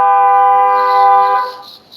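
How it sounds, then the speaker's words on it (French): A car horn blares outside in one long sustained tone, loud and steady, then cuts off, leaving a brief quieter tail. "pardon pour le klaxon."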